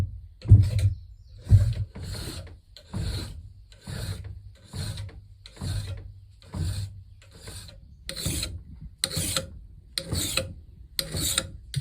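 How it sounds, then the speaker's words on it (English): A flat Nicholson file rasps steadily across a blackpowder caplock gun barrel to take the flats off, a dozen or so even back-and-forth strokes, close and fairly loud with no talking. "take a flat Nicholson file like this, and then you can either pull it or push it and get a nice good bevel"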